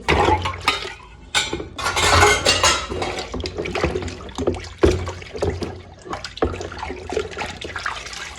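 Dishes clink and knock against each other while hot water splashes and sloshes in irregular bursts, close by, with no talking.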